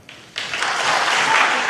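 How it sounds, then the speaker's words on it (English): Applause from a presidential debate audience breaks out suddenly after a brief quiet moment, then swells into a loud, sustained roar of many hands that continues to the end. "Can we please hold the applause?"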